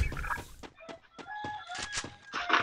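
Clucking fowl calls from Free Fire, the battle royale game, a run of short squawks and clucks arriving in quick bursts, fairly close and alone without speech.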